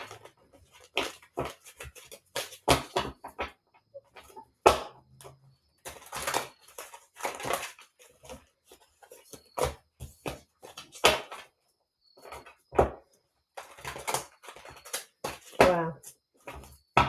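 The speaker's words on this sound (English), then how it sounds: "I have to be strategic in the shuffling here." Tarot cards being shuffled, a stiff deck giving intermittent clustered riffles and taps in short bursts with pauses, close and fairly quiet.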